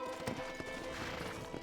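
Horse hooves clip-clopping in the Western video game Red Dead Redemption, a short run of soft, fairly faint steps under a steady ambient game background.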